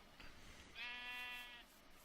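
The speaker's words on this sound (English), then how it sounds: "hush up, sheep." A single sheep bleat in Minecraft, a bright, buzzy held call of about a second, fairly clear over a quiet game background.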